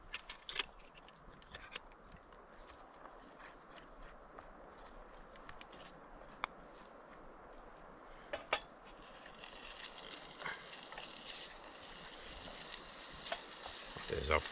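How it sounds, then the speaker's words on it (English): Vegetables frying with spices in a pan over a Kelly Kettle outdoors, a soft, fairly faint sizzle with scattered clicks and stirring scrapes that grows louder and denser in the last few seconds. "I'll fry those up first with the spices"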